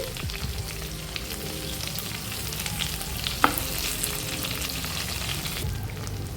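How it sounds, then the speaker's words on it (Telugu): Stuffed ridge gourds turned over in a pan, frying with a steady close sizzle and soft scraping from a spatula, with one sharp clink partway through and no voices. "ఇప్పుడు బీరకాయలని రెండో వైపుకు తిప్పుకుందామండి"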